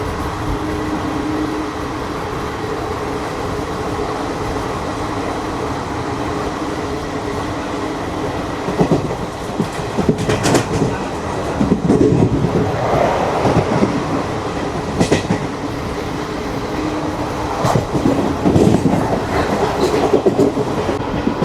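22136 Weekly SF Express rushing through Nagari station at speed, heard from on board as a continuous loud rumble with irregular wheel clatter over points and track joints, sustained throughout without speech.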